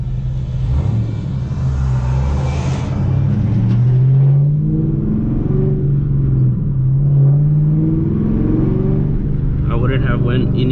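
Car engine fitted with long tube headers revving, a deep loud rumble rising and falling through several throttle blips over a steady idle, with someone talking over it.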